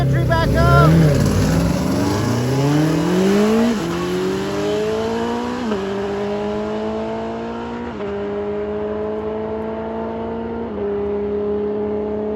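A motorcycle and a Camaro make a drag race run, engines screaming loudly and rising in pitch through several distinct gear shifts, close at first and then slowly easing away.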